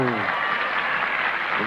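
Applause at the 1985 French Open women's final, steady broadband clapping from the tennis crowd throughout, with faint commentary-like voices near the start and end.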